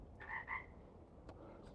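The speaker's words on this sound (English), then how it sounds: "There's my frog." A frog croaks twice in quick succession, two short raspy calls close together, then a faint click later, with no talk over a low background hum.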